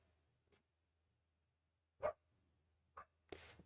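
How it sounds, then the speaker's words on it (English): A dog barks in the distance a few times at uneven intervals, faint and sparse against a low steady hum. "there's a dog that keeps barking"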